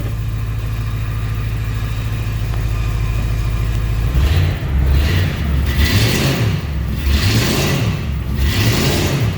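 A 2008 Ford Crown Victoria Police Interceptor engine idles steadily, then revs up and down in several smooth, repeated swells, close and loud with no talk.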